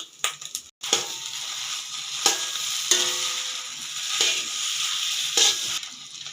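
Plain egg noodles fry in a pan with a steady close sizzle, broken by several louder scraping stirs and clatters.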